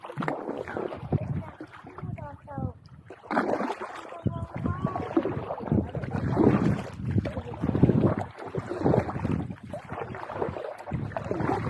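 Wind buffets the microphone on the Hamble River from a kayak, a constant rough gusty roar with paddle splashes and water lapping, while people talk over it.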